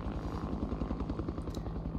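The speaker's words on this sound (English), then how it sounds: "if I have a helicopter sound here" A helicopter sound effect playing in the Nuendo audio software gives a steady, rhythmic rotor thump with a low engine hum, loud and continuous throughout.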